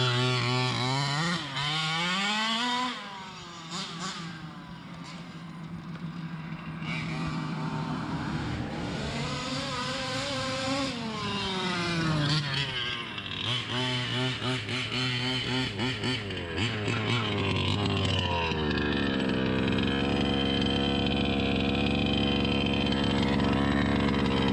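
A 5ive-T truck's engine, warmed up, runs steadily and loudly for a long stretch, its pitch rising and falling as it revs, with a rough, buzzing tone throughout.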